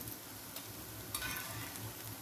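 Soft, steady sizzling of vegetable patties frying in a pan, with occasional brief crackles and spatters, quiet and close.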